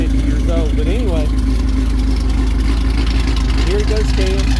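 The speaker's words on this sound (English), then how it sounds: "I'll get out of the car so you can hear the car chopping." Tuned Ford Mustang V8 with an aggressive cam idling in a choppy, loping rhythm, a steady low engine rumble throughout with someone talking over it.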